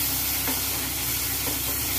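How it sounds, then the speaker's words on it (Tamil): Onions for spicy idli-batter paniyaram sauté over high heat, producing a dense, even sizzle and hiss that holds steady and close throughout. "இந்த வெங்காயம் கொஞ்சம் வதங்கும் போது கொஞ்சம் தீ கூட்டிக்கோங்க"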